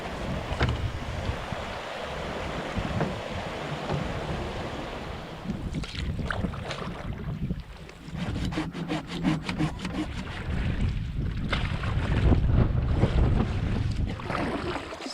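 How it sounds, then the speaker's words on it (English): A paddle dips and pulls through shallow creek water on a solo wilderness trip, with splashing, wooden knocks against the boat and steady rushing water close by, alone without voices. "Just enough water to paddle here"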